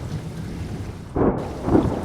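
Stormy rain pours steadily in a forest, with a deep rumble of thunder swelling in partway through and rolling again near the end, loud and close over the constant downpour.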